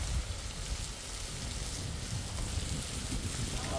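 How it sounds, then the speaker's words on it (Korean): Strong wind blows outdoors at a mountain house, a dense, continuous rushing roar with low buffeting that stays loud and steady throughout, no clear talking. "아, 바람이 많이 부네요"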